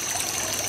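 Water trickles and splashes steadily in a yard fountain at night, a continuous, close, bright dribbling wash with no pauses and no talking.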